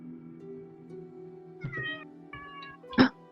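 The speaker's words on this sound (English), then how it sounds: "I heard a meow" A cat meows a few times in a quiet room with a low steady hum; the cries are short and moderately near, and the last one is the loudest and sharpest.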